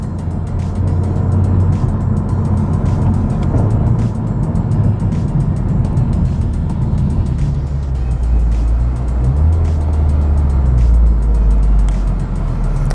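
Steady low road rumble and tyre roar inside a 2019 Honda Civic Type R on the move, a dense continuous cabin drone with faint ticking over the top.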